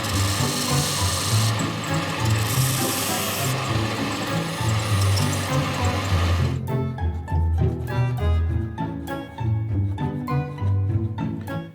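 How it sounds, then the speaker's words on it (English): Parts from a restored 1968 AWA Swinging Brick B60Y radio are cleaned on a small sanding wheel, giving a steady, loud abrasive whir that turns harsher and more grating partway through, with scraping bursts over a constant motor hum. "I'll just put them on the little sanding wheel and clean them up here."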